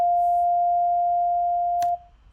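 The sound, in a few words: 700 hertz test tone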